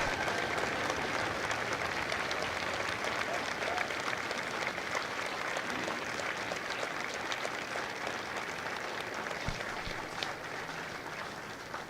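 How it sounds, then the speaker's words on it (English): Sustained applause from a graduation audience at Marine Corps Recruit Depot San Diego, honoring Marines' service; dense, steady clapping fills the whole stretch with a faint crowd murmur beneath. "a round of applause for their dedicated service to Corps and country"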